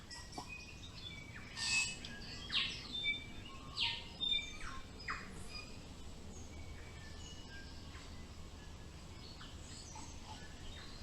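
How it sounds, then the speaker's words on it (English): Several bright, varied calls and chirps of tui, a native New Zealand bird, ring out from a forest in short bursts, with a steady quiet ambient hiss beneath them. "I think you can hear the tuis, I think they're called, which is a native bird to New Zealand."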